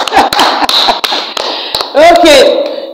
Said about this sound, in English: please clap for this student